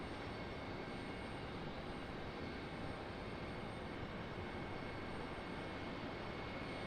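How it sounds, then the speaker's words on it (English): An Airbus A321neo airliner departing from Raleigh-Durham airport, heard as a faint, distant, steady engine rumble and hiss without any change in level and with no speech. "hopefully, there goes our A321neo"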